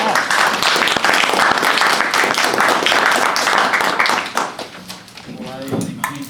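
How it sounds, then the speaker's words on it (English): Audience at a regional ethics bowl competition breaks into loud, dense applause that fades after about four seconds, followed by a voice speaking as the clapping dies out. "Let's give everyone a round of applause."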